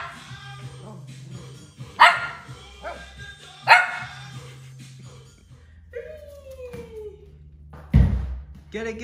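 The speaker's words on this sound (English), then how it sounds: "And he's barking at himself." A dog barks at its own reflection, giving three sharp, loud barks spaced a few seconds apart over a steady low hum and faint background noise.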